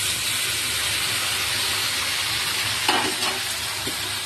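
Ingredients for kul pickle frying in a pan, a dense, even hiss of hot oil throughout, close and steady, with a couple of brief clatters near the end.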